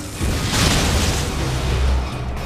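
A missile strike on a frozen spot in the game Metroid: Other M, a loud close booming blast with a rumbling low tail that holds for about two seconds, then fades.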